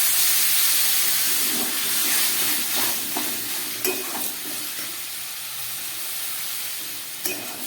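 Strained chickpea cooking water hits a hot pan of spiced oil with asafoetida, producing a loud, sustained steamy hiss and sizzle close by, with a few light utensil knocks as it settles.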